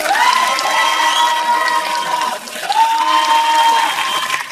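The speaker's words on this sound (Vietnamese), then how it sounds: "Vỗ tay cho hai tài năng quý giá của Việt Nam chúng ta." Sustained audience applause and cheering for two circus performers at a Vietnamese talent show, loud and continuous with a brief dip midway, mixed with bright music.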